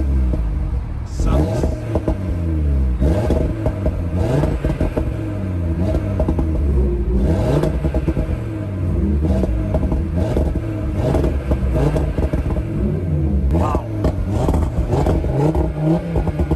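An Audi RS3 engine in dynamic mode revs up repeatedly, rising and falling in pitch with a deep rumbling exhaust, loud and close, alongside occasional clatter.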